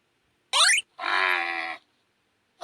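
A cow moos twice in quick succession, a short rising call followed by a longer, steady low moo, loud and clear against silence, with the start of another at the end.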